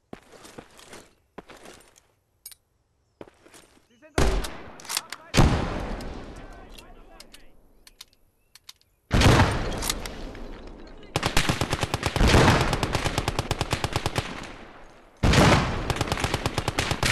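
An enemy gun fires in the Call to Arms – Gates of Hell eastern front, Germany against the USSR: scattered sharp shots and bursts, then long sustained loud machine-gun rattles in rapid rhythm, with voices briefly heard amid the battle.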